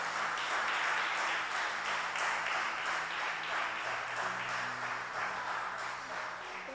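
A church congregation applauds during a sermon, a steady wash of clapping that holds at an even level from start to finish with little talk over it.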